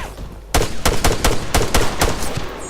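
Suppressive gunfire in ArmA 3: after a quiet half-second, a sharp burst of about eight loud shots rings out in a fairly even, rapid rhythm with echoing tails.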